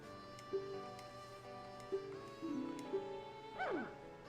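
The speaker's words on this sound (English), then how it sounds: "Yes, that doggy's fine." A dog in The Legend of Zelda: Majora's Mask gives several short, synthesized barks and yips at irregular intervals, ending in a falling whimper-like yelp over steady game background music.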